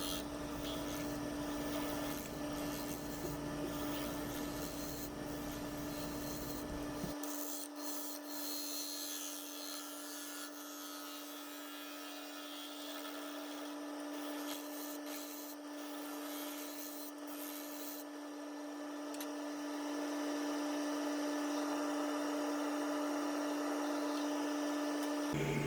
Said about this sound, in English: Still with the Carter & Son bowl gouge